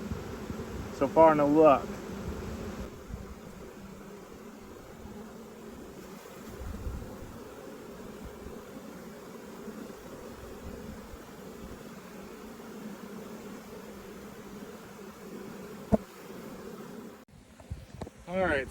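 A honey bee swarm fans and buzzes in a soft, steady hum close by, with a person briefly talking over it near the start.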